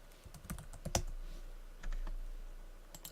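Keystrokes on a computer keyboard while coding a string-slice function, a quiet run of separate clicks with a brief pause in the middle, close and alone without speech.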